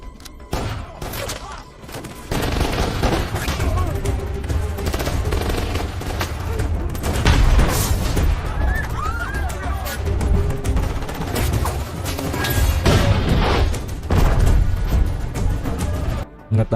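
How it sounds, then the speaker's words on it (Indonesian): Sustained gunfight from the action film The Marine 2, with rapid bursts of automatic fire and scattered shots from both sides, loud and continuous after a quieter opening, with a faint voice now and then under the shooting. "setelah pria itu membocorkan aksi dari Joe, aksi tembak-menembak dari kedua belah pihak pun terjadi"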